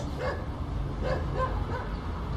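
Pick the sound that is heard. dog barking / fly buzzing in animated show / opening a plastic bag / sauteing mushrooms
dog barking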